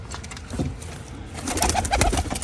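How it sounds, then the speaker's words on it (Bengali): A newly arrived domestic pigeon and others coo near a home loft, giving low throaty purrs and a few fluttery scuffles up close, growing denser toward the end. "এই যে পায়রাটা নতুন এসেছে"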